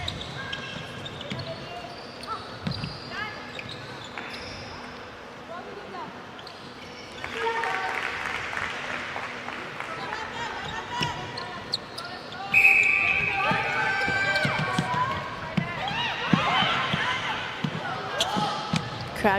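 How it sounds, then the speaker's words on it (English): Crowd noise swells at a Nations Cup 2023 netball match between Singapore A and Sri Lanka, rising in two surges beneath steady commentary, with occasional ball bounces and court sounds mixed in. "Crowd getting involved."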